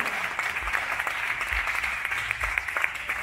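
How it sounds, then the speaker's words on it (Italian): A short burst of audience applause at a Wall of Death motorcycle stunt show, many hands clapping together at steady volume throughout, with no voices over it. "applauso a Gerard Pereira qui con noi."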